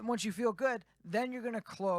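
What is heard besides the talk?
No distinct noise like a dog, phone or traffic.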